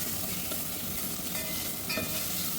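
Onions frying in mustard oil for a Kakinada-style crab curry, a loud continuous sizzle with stirring scrapes from a spoon in the pan, close up and with no talk.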